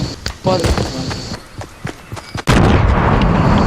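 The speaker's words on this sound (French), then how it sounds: "je lance une Rushez grenade." A grenade goes off in Fortnite with a sudden loud blast that fills the final second, after scattered gunfire-like pops while players chatter.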